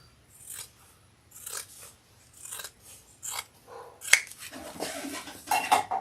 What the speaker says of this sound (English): I'm just going to trim that up a little.